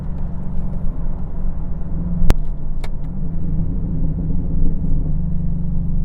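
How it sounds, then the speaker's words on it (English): A Chevrolet TrailBlazer SS, a 400 hp SUV, accelerates in second gear from low rpm, its engine giving a deep rumbling drone inside the cabin with a couple of sharp clicks and no talking. "we're gonna do another second gear pull here"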